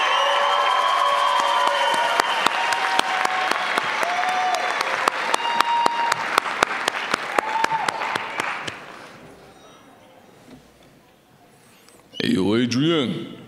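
Audience applause for contestants of the Ms. Utah for America Strong pageant, a dense, loud clatter of many hands with scattered whoops, sustained for about eight seconds before thinning out, then a brief burst of music near the end.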